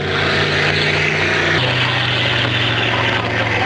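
Racing boat engines at full throttle during a Canada Day boat race, a loud, steady droning roar that shifts pitch partway through and continues unbroken, close and dominant.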